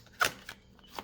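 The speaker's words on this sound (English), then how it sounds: "Let me just shuffle this way rather." Tarot cards being shuffled by hand, a few quiet papery riffles and slaps spaced irregularly, close and soft with no talking.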